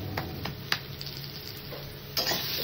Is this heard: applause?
no